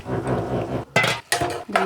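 Chopped bottle gourd tipped into a pan with hot tempering in a home kitchen: three loud, brief bursts of clattering and sizzle follow a steady low background hum, each separated by a short pause.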